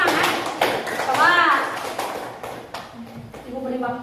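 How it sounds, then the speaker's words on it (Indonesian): Applause from a classroom group of trainees, many hands clapping in a dense, steady patter that fills the whole clip, with voices and shouts mixed in over the clapping. "Tepuk tangan dulu lah"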